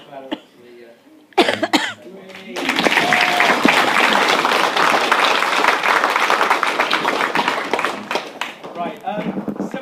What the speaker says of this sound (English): So we can have that same round of applause as we did in the first round